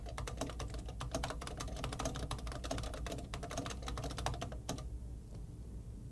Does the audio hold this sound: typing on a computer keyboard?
yes